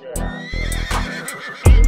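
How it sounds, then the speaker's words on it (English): A horse gives a loud, close whinny in several shaky, pulsing bursts that break off, followed by a sudden low thump. "When the horse stood up."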